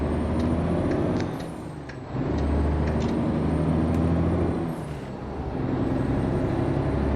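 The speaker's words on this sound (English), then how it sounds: "These trucks sound good." A Mack R truck in American Truck Simulator idles and pulls with a loud, steady diesel drone, dipping twice as the revs fall, with hissing air-brake bursts overhead and no speech.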